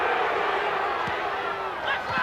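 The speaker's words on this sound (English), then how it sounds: "Now the crowd getting on the back of the referee. Well, they're screaming for offside." A rugby league stadium crowd at a 1999 Bradford versus Wigan match roars continuously, a dense, loud wall of shouting and jeering aimed at the referee over an offside call.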